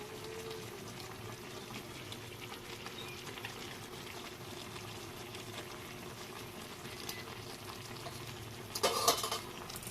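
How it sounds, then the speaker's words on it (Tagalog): A pot of catfish stewed in coconut milk bubbles at a steady, close boil, with a brief clatter near the end and no voices. "Ayan, kumukulo na."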